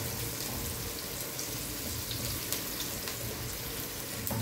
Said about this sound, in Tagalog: naggisa na ako ng sibuyas at bawang